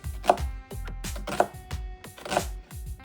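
A knife makes small slices through an onion: three distinct crisp cuts, evenly spaced about a second apart, over a steady tonal background.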